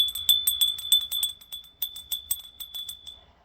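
A small ritual bell rings in a fast run of bright, shimmering strikes with a sustained high tone, close and alone, the strokes slowing and thinning toward the end.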